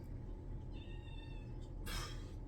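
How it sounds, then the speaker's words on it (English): A cat meows once, a drawn-out, fairly faint call, and a brief sharper cry follows, both over a low background rumble. "That's the kitty cat."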